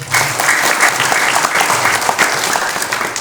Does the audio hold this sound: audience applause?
yes